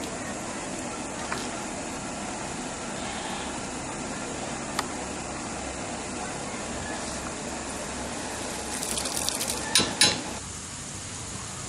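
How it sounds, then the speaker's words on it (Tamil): Herbal hair oil in a pot bubbles and sizzles steadily at close range, with a few louder clinks and crackles near the end. "பாருங்கள் ஆயில் நல்லா கொதிக்குது."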